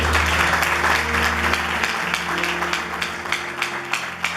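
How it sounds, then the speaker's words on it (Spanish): A church congregation at a Sunday service applauds with dense, sustained clapping that stays loud and close throughout, with a low background hum beneath. "Denle un aplauso fuerte al Señor"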